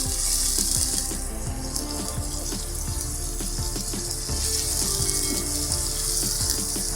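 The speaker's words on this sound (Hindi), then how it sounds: "अब 3 से 4 मिनट हो गए हैं इसको फ्राई होते हुए।" Beef pieces frying in a karahi for Peshawari shinwari karahi, a steady close hissing sizzle with bubbling, spattering and occasional clinks of a spoon against the pan.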